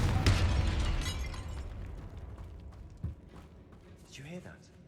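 The Confringo spell in Hogwarts Legacy, cast inside a tomb, goes off as a single sharp blast with a crackling burst that decays over a few seconds, followed by a small thump and a brief voice at the end.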